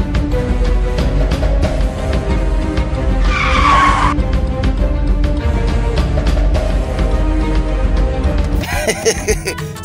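A car skids with tires squealing, a loud sustained screech layered over engine roar and commotion, swelling midway and continuing throughout.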